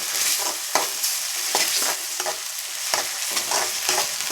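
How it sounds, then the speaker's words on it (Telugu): Ginger garlic paste fries in hot oil for a bean gravy curry, a close, steady sizzle broken by regular scraping strokes of a spoon stirring the pan. "అల్లం వెల్లుల్లి పేస్ట్ అండి పచ్చి వాసన పోయేదాకా వేయించండి బాగా"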